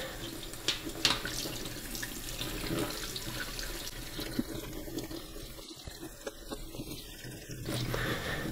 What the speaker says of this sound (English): And now we need to give it a really good rinse. So just using cold water.